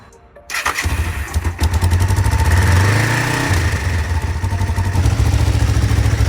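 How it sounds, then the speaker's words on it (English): A Kawasaki Ninja 500R motorcycle engine turns over reluctantly after an oil change, then catches and runs at a loud, rough idle with clattering, rising briefly in revs before settling. "the bike kind of struggled to turn on."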